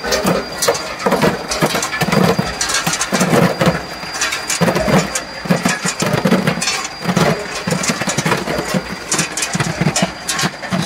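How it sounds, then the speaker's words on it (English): Commercial solid-cylinder ice machine running steadily, a dense continuous mechanical drone with rhythmic thumping pulses about every second, loud and close throughout. "check the solid ice cylinder made by the machine"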